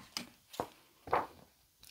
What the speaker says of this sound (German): wir schneiden jetzt erstmal dieses Stück hier raus